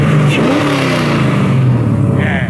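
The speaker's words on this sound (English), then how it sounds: "A couple little revs real quick." An LS V8-swapped Mazda RX-7 revs up loudly close by, with a quick rise in pitch and then a falling, burbling return, all with no talk.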